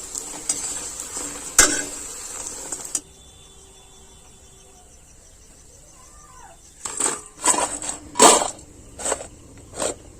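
Raw chickpea pakoras frying in hot oil, a bright crackling sizzle with sharp spatula scrapes and clinks, fading to quiet in the middle before bursts of stirring return.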